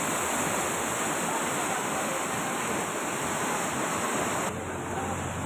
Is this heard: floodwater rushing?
yes